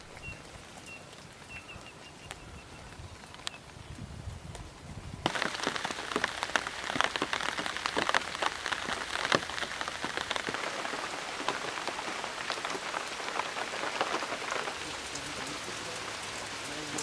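Rain falls steadily in a rural setting, a soft patter that swells abruptly into a heavier, denser downpour, with a faint bird call early on.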